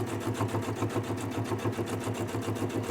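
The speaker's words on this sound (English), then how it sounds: "I'm just going to sew all the way around" A sewing machine runs steadily, stitching around a fabric pocket with a rapid, even needle rhythm that stays close and continuous throughout, with no talking.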